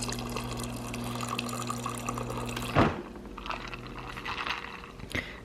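Water is poured from a tap or jug into a glass of ice and a double shot of espresso, a steady filling rush that stops abruptly, followed by faint clinks and settling drips.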